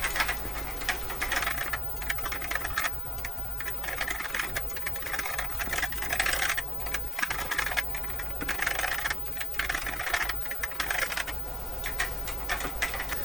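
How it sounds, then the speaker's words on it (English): Steady, rapid typing on an ADM-3 computer terminal keyboard, dense clicking keystrokes over a constant low hum, continuing evenly throughout. "I'm just going to keep typing a few lines"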